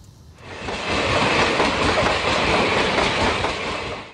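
A train rolls past at the small Chiang Mai railway station in Thailand, a loud, steady rush of wheels clattering on the rails that swells in after a quiet start and carries on without voices.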